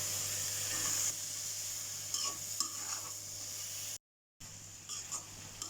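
Onion leaves, beans and potatoes frying with dried fish in a pan, a steady close sizzle broken by scraping and stirring clatter, with a brief dropout near the end.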